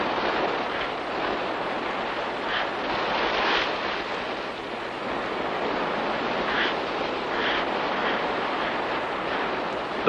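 Ocean waves wash up onto a sand beach in a steady broadband roar, with softer surges swelling and receding and some wind buffeting the microphone.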